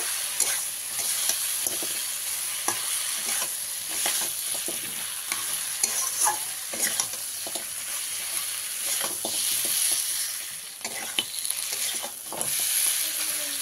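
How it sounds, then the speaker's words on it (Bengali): Fried fish head being stirred into a spice masala in a pan for moong dal, with a steady sizzle and repeated scraping strokes of the spoon running throughout, close and fairly loud, no talking. "এবারে এর মধ্যে ভেজে রাখা মাছের মাথাটা আমি দিয়ে দিলাম, দিয়ে মশলার সঙ্গে ভালো করে মিশিয়ে নেব।"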